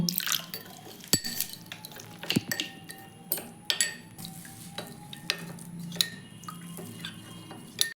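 A thin batter of water, salt and ground pepper is whisked in a bowl for egg chops, giving close, irregular clinks and scraping taps with soft wet stirring between them.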